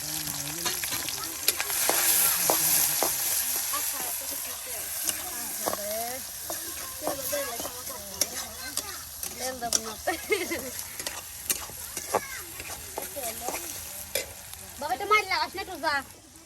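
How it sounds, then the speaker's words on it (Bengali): Chopped onion and garlic frying in a pan over a cooking fire in a forest, with a steady loud sizzle, stirring scrapes, and people talking throughout. "এই যে এখানে দেওয়া হচ্ছে পেঁয়াজ কুচি, রসুন কুচি।"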